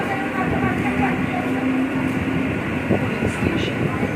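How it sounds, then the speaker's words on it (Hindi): A train pulls into a station with a low rumble and rolling clatter, a brief tonal whine over the steady noise, while people talk nearby. "तो फाइनल मेरा ट्रेन आ चुका है, ट्रेन में बैठूँगा।"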